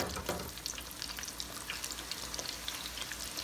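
Rolled tacos (flautas) deep frying in a deep fryer, a steady close crackling sizzle with dense bubbling that holds level throughout, with no voices.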